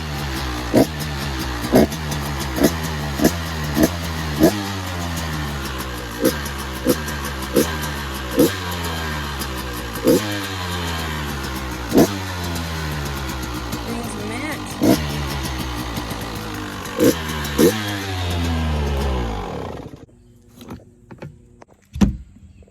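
A KTM 85 BigWheel dirt bike with an exhaust leak makes a top speed run, its two-stroke engine climbing in repeated rising pitch sweeps as it shifts through the gears, loud and close, before dropping away near the end.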